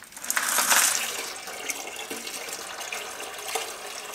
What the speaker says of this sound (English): So I'm gonna finish decanting that.